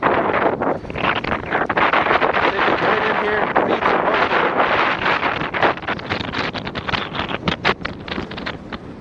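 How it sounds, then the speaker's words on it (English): Strong wind buffets the microphone loudly and continuously while fishing from a shore for carp and bullhead, a dense roaring rumble with gusty surges and no clear speech. "this wind is outrageous"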